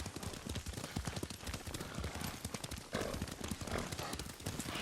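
Horse hooves clip-clopping while riding in the video game Ghost of Tsushima, a fast, steady galloping rhythm of close, dense hoof strikes throughout.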